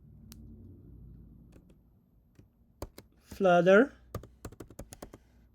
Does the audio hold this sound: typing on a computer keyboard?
yes